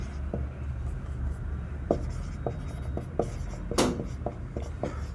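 Marker or chalk taps and scratches out numbers on a board in short, irregular strokes, close and fairly faint, with a low steady hum underneath.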